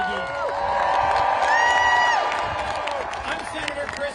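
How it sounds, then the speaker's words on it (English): A protest crowd in Washington DC cheers and claps, a dense roar of whoops and applause sustained throughout, with a voice heard over the crowd. "Let's cheer for the men and women of USAID."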